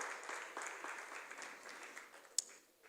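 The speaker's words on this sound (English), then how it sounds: "Thank you very much for clapping for all of them." Audience applause at a Lagos courthouse ceremony, a soft, dense patter of many hands clapping at moderate distance that gradually fades, with one sharper clap standing out near the end.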